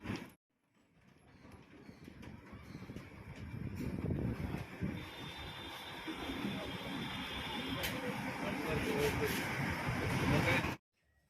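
A steady low engine rumble and road noise fill the inside of a moving bus, swelling slightly and holding level throughout.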